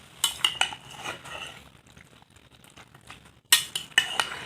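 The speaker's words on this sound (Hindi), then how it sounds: "इसको बहुत अच्छे से कर देंगे मिक्स, इस तरह चम्मच के साथ" A metal spoon stirs chana chaat with yogurt in a bowl, giving sharp clinks and scraping in two busy bursts separated by a quieter pause.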